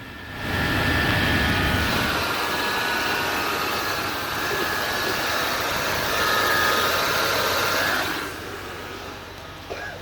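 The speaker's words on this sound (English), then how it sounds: "My truck is fucking running." A truck engine runs loud and steady for several seconds with a constant rumbling drone, then cuts off and drops away near the end.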